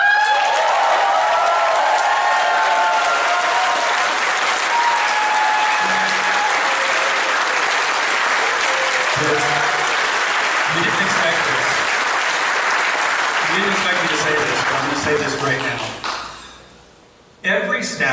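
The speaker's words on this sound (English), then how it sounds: "give a big round of applause to Megaplex's newest board member, Blitz" A convention closing-ceremony crowd gives a long, loud round of applause with scattered cheers for a newly named board member, sustained and dense before tapering off near the end.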